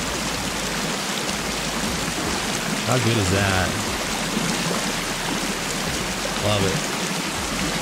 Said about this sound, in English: So here's a cool little waterfall.